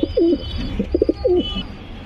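Pigeons cooing close up, a few soft throaty coos and short burbling calls in quick succession with quiet pauses between.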